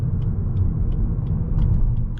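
A 2022 Lexus UX 200 with a CVT and about 160 horsepower drives along, heard from inside the cabin as a steady, close low rumble of engine and road noise with no breaks.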